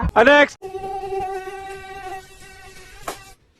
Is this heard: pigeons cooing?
no